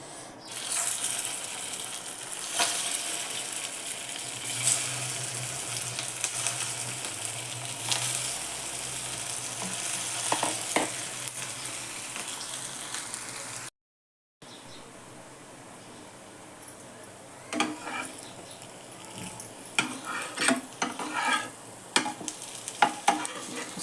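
Potato patties for ragda pattice shallow-frying in a pan, a sustained sizzle with frequent scraping and turning sounds, briefly cut off midway, then quieter frying with sharper spatula knocks near the end; no speech.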